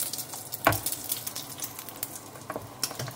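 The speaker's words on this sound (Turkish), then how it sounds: "Bu şekilde kızartıyorum" Soft sizzling of bread frying in a pan, broken by a sharp clink of utensils and light scraping, with no voices.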